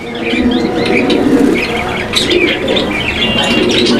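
Domestic pigeons in a pigeon market call with repeated close cooing and chirping notes layered over one another, with a steady bustle of other birds behind them.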